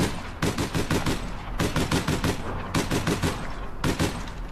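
Automatic weapon fire in the APB Reloaded video game, several rapid bursts of closely spaced shots separated by short pauses, loud and near.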